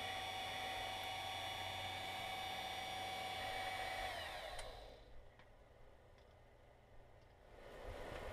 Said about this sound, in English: I'm drilling out holes into the Mecanum wheel to make it compatible with Tetrix axle hubs